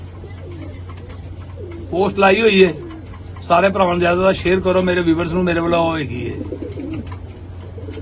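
Pigeons coo softly in the background while someone talks over them for most of the stretch.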